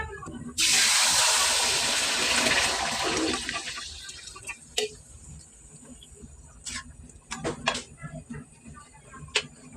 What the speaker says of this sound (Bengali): পানি দিয়ে দিলাম, একটু জল লাগবে